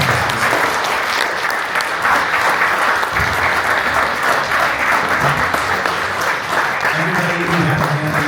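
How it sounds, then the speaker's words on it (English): Sustained loud applause fills the hall as a conference audience at the Toronto Democracy Forum 2025 closing reception claps for the organizers and volunteers, a steady dense roar with faint low voices mixed in. "You all deserve a massive round of applause"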